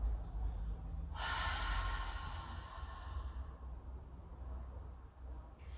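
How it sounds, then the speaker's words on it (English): A person releases a big audible exhale through an open mouth during a yoga breathing exercise, a close breathy rush of air that swells, holds and then slowly fades. "Open your mouth and just with big audible release all the air"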